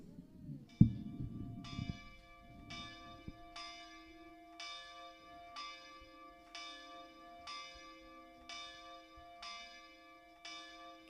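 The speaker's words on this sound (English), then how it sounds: "now we're going to do our bells from our partner church." A church bell tolls at a slow, steady rhythm, each strike ringing out and fading, after some brief rustling at the start.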